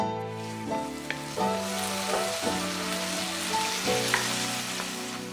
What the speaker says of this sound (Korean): 볶음팬은 그대로 올려서 소고기 넣고 3분 정도 볶아줬다.